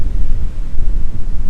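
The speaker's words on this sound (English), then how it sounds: "from a very windy Lincolnshire, and it's getting even worse now" Strong gusts buffet the microphone in a very windy Lincolnshire, a loud, continuous low rumble of wind noise with no speech.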